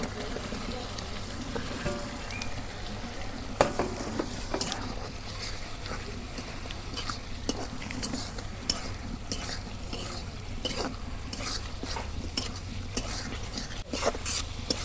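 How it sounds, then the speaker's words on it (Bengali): Beef being stirred and fried with spices in a pan, a steady sizzle under repeated scraping and clattering strokes of a spoon against the pot, close and continuous. "এখন মাংস দিয়ে দেব,"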